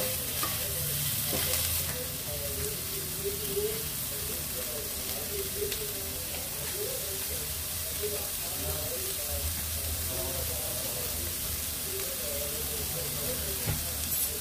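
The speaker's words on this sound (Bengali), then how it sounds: "প্রথমে সেদ্ধ করে রাখা সয়াবিন সামান্য লবণ, গোলমরিচ আর লঙ্কা গুঁড়ো দিয়ে ফ্রাই করে নেব।" Boiled soybeans frying in a pan with salt, pepper and chilli powder, giving a steady loud sizzle and hiss with faint stirring scrapes throughout, close and continuous.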